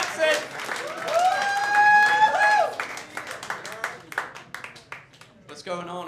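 Audience applause and clapping at a comedy club show as a comedian, a teacher, walks up to the stage, a steady burst of clapping that carries under the host's voice and then fades as the comic starts talking.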